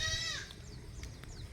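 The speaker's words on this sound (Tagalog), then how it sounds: "Yan yung ating mga kambing." Goats bleat on a farm, one loud, wavering bleat up close at the start, followed by fainter, shorter calls from farther away over low background rumble.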